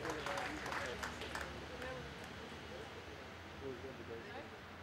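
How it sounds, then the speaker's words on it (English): Audience applause at a birthday celebration: a steady, dense patter of many hands clapping, fairly faint and even throughout, with crowd voices mixed in underneath. "Big round of applause"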